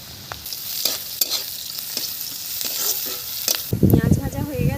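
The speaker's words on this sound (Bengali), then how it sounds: "পেঁয়াজ ভাজা হয়ে গেছে" Onions and garlic fry in hot oil in a kadai, a steady crackling sizzle with occasional stirring scrapes that grows louder and busier toward the end.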